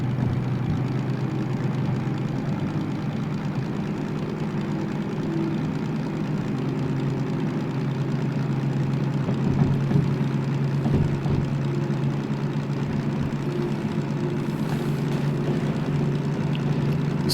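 A train locomotive's engine in the Derail Valley video game drones steadily, a deep continuous rumble with a strong low hum and faint mechanical clatter, unchanging in level throughout.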